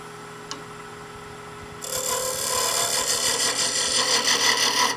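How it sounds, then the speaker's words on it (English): Scraper shearing across a turned wood bowl spinning on a lathe, a steady broadband rasping scrape that starts abruptly after a quiet moment and continues, close and fairly loud, with no talking. "Shear scraping, where you hold the handle way down and you get a really smooth final cut on your bowl or your vessel."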